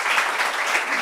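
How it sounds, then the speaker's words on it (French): An audience applauds a woman named Dila at a meeting, a steady dense wash of many hands clapping at close range, uninterrupted and fairly loud for a brief moment. "Est-ce qu'on peut applaudir Dila,"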